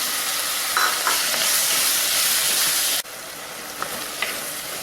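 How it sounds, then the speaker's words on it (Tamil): Tomatoes fry with capsicum in a pan for gravy, a dense, loud, steady sizzle close by with a few faint stirring taps, dropping suddenly to a quieter hiss near the end. "இப்போ தக்காளி பழத்தை சேர்த்துக்குவோம்"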